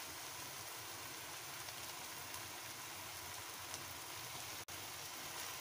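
Chicken and two spoonfuls of crushed garlic frying in a karahi pan for white karahi: a steady, dense sizzle that stays even throughout, with one very brief dropout near the end and no voices.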